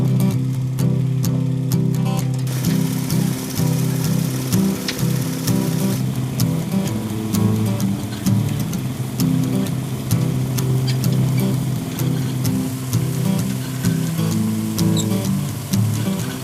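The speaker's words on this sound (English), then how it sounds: "When we're washing, we just shovel them in the one end, and that washer takes care of them then from then on." A ginseng root washer tumbles shoveled roots through its drum, giving a continuous loud mechanical rumble with steady clattering and rattling throughout.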